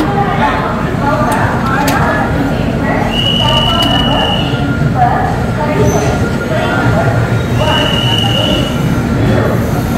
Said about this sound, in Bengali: আমাদের ট্রেন কিন্তু পুরো 20 মিনিটের স্টপেজ দিয়ে বিশাখাপত্তনমের 5 নম্বর প্ল্যাটফর্ম থেকে কিন্তু ট্রেন ছাড়লো।